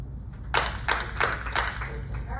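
A concert audience claps along to a song in unison, about five evenly spaced group claps on the beat, fairly close, over a low background hum with faint voices.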